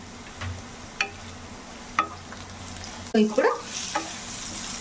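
Salted potato fry being stirred in a pan, with soft sizzling underneath and four or five distinct scraping strokes of the spoon spaced about a second apart, close and fairly quiet.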